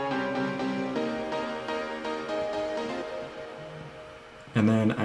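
Nexus DigiPiano, a digital electric-style piano sample, plays sustained chords in a deep house style for several seconds before a louder, brighter chord stab near the end, with no talking over it.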